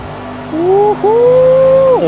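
A GT3 race car in Project Cars 2 at full throttle: a loud, tonal engine whine climbs in pitch, dips briefly at an upshift, then climbs again before easing off.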